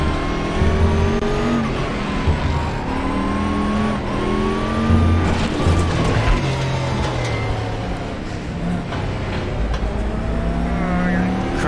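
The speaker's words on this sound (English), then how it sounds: "Fishtailing out of the hairpin, trying to be more careful on the throttle." Race car engine in RaceRoom Racing Experience at Nogaro Circuit, fishtailing out of a hairpin, with a loud sustained engine drone whose pitch rises and falls through the whole stretch, tire noise mixed in, under steady talk.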